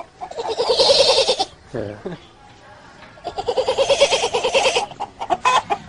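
A voice imitates a goat with two long, wavering bleats separated by a short pause, loud and close.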